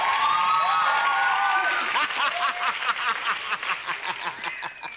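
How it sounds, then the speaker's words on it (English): Studio audience at a children's game show breaks into applause mixed with cheering and laughter, swelling briefly then thinning into scattered claps under a presenter's voice and a whooping tone. "give them a big round of applause, please"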